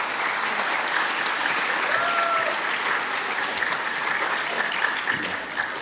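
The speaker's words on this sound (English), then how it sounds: "How about another applause for General Haddad?" Audience applause at a Veterans Day ceremony, a steady wash of many hands clapping throughout, with faint voices mixed in underneath.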